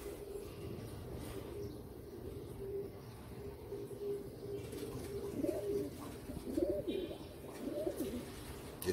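Soft coos from three Royal Teddy pigeons held in a hand repeat several times over a steady low background hum, close by and fairly quiet.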